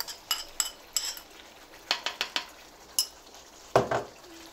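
Spoon scraping and stirring yogurt into mutton karahi in a pan, a series of short, sharp metallic clinks and scrapes with brief pauses between them, fairly faint and with no talking.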